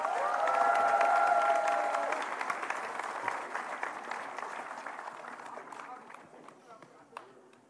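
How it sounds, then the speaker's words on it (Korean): A crowd of Gwangju citizens at a talk show bursts into loud applause with some cheering, then thins into scattered claps and murmuring; a tonal voice or cheer sits over the opening seconds. "다시 한번 박수 좀 쳐주십시오"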